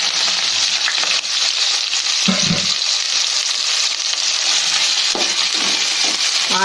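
Onions and green chillies fry in hot oil and ghee for a chicken biryani, giving a loud, steady sizzle that continues without a break, with a few faint stirring clinks and no voices.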